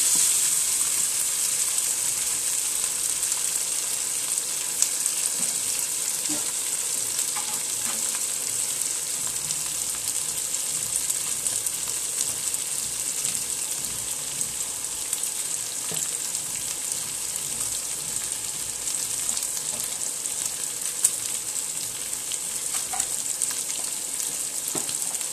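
Chicken pieces frying in a pan for chicken rolls, a steady loud sizzle running throughout with occasional soft scrapes of stirring, no voices.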